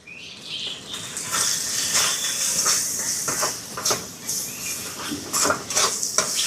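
Spices, including turmeric and dried red chilli powder, fry in a pan with a continuous hissing sizzle. Irregular scraping and stirring knocks from a utensil against the pan rise and fall throughout, close up, with no talking.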